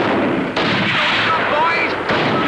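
Ship's guns open fire in the 1959 naval comedy film The Navy Lark, heard as loud, dense broadband blasts with a sharp new burst about halfway through and another near the end, rumbling continuously without a break.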